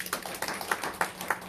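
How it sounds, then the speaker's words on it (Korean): Light audience clapping in a school lecture hall, a few sharp, scattered claps spaced out over a brief moment, thin rather than a full round of applause, no talking. "복 받으신 자신을 위해서 박수 좀 주세요."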